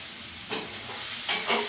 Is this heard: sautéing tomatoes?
yes